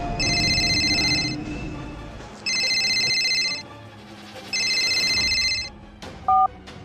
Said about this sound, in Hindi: फोन की घंटी बजी, जिससे वो होश में आया